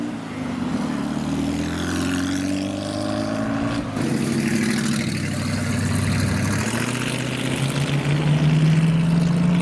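Car engines at a busy car meet, loud droning engine notes rising and shifting in pitch as vehicles accelerate away, steady and close throughout.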